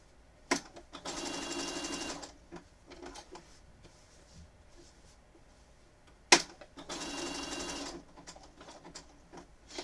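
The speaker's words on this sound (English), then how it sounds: "I am using the dial on the side of my machine to make sure that my needle is perfectly placed before I start sewing." Sewing machine stitching a Pokémon appliqué quilt, running in two steady bursts of about two seconds each with short clicks and pauses between them, close and clear, with no talking.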